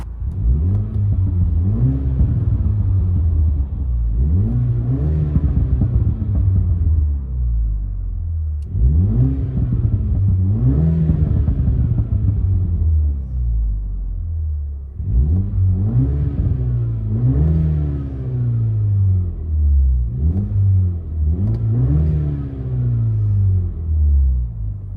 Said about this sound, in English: Mini Coupe, Vibrant muffler delete with a Flowmaster tip.